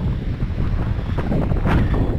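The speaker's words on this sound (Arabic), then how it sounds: "ريح بزاف" Strong wind roars and buffets the microphone continuously at a lookout near Achakar, Tangier, Morocco, a loud low rumble with gusting swells and no one speaking.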